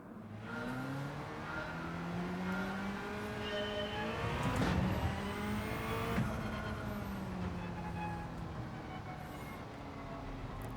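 Toyota GT-One TS020 '99 race car engine in Gran Turismo 7 on Fuji International Speedway, a loud continuous drone with rising and falling harmonic pitch as it revs through gears, steady throughout with no talk.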